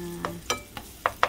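Garlic and onions sautéing in olive oil, with a few quick spatula scrapes and knocks against the pan over a faint background sizzle; brief and close, no talking.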